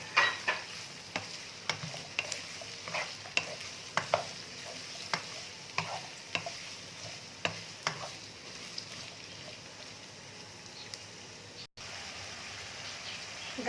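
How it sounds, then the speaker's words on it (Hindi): Carrots frying with cooked chicken in a pan for Chinese rice: a soft continuous sizzle broken by regular scraping stirs, fading to a quieter hiss near the end, no voices. "अब मैं इसमें गाजरें डाल दूँगी और 3 से 4 मिनट तक हम इन्हें भी फ्राई करेंगे"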